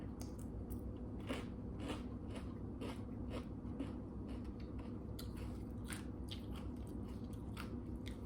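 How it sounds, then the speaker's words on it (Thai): Fried frog being bitten and chewed close to the microphone, a steady run of crisp crunches and wet chewing over several seconds, quiet and without talk. "ไม่ได้กินนานมากเลยนะเขียดทอดเนี่ย"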